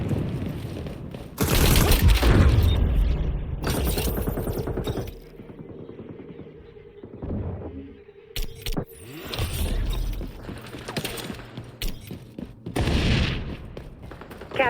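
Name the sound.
flashbang thrown and gunfire in the video game XDefiant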